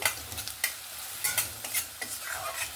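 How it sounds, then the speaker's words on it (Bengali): Finely chopped onion frying in a pan, a steady sizzle broken by repeated stirring scrapes in an uneven rhythm, close and moderately loud with no talking. "আর একদম লাল লাল করে কিন্তু ভেজে নেব"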